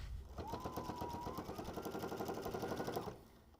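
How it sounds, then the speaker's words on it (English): A sewing machine runs a quarter-inch seam around the edges of a pillow, giving a close, even, rapid chugging of stitches that holds steady for about three seconds, then stops. "I'm going to stitch 1/4 inch around all the edges"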